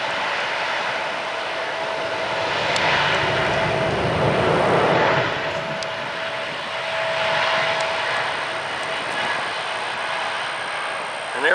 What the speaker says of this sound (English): we'll get one more, little bit newer airplane